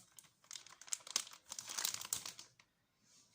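Plastic packaging of a ribbon embroidery kit crinkles and crackles in close, irregular bursts as it is pulled open, then falls quiet near the end.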